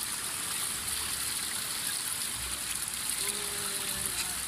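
Water from a hillside spring flows in a steady, even hiss and trickle, close and unbroken, with no voices.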